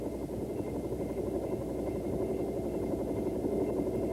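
A Bell AH-1 Huey helicopter lifts off into a hover with a loud, steady, unbroken drone of rotor and engine. No one speaks.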